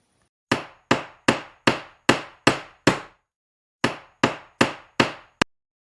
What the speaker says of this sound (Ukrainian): Так, він почув звук молотка.